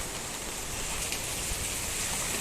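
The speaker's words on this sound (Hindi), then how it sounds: "ओ भाई साहब कितना तेज बारिश आ गया, देखो भाई।" Heavy rain pours down steadily, a dense, even hiss of drops hitting surfaces close by, continuous and unbroken with no voices over it.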